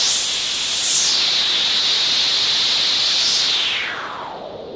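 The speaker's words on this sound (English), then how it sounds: "we put the high-pass white noise in the right channel" High-pass filtered white noise from a Eurorack modular synth hisses steadily and bright, its filter sweeping up at the start and falling away near the end before cutting out.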